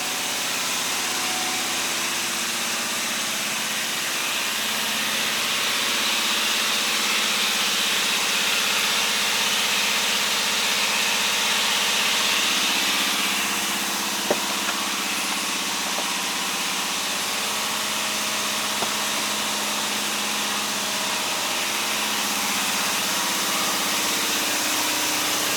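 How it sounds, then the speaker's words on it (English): An air compressor runs steadily in a workshop, a continuous loud mechanical drone with hum and hiss that holds without a break, with no voices over it. "I'm going to go ahead and wait real quick while this compressor is ready to kick off here in a second."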